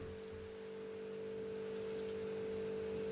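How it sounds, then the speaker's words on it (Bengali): Steady rain falling on a hot-season afternoon, an even, constant patter that holds at moderate loudness for a few seconds with a low steady hum underneath and no voices. "তারপরে তো এই তো বেলার দিকে বৃষ্টি হচ্ছে।"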